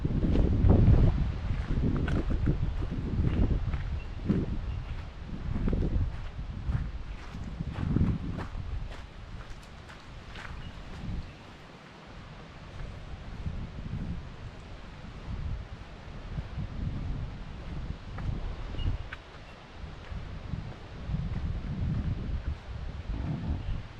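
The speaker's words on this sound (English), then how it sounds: "the wind's starting to come up" Steady wind gusting across a Montana mountainside in the Tobacco Root Mountains near an abandoned gold mine, a continuous rushing buffet on the microphone with occasional rustling and soft crunching steps.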